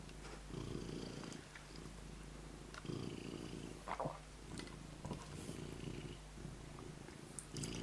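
A pet cat purrs loudly and steadily right against the microphone, a deep rhythmic rumble that rises and falls with each breath, with a few small snuffles and soft handling noises.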